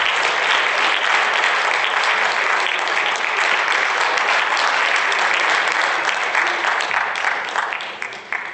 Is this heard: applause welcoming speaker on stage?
yes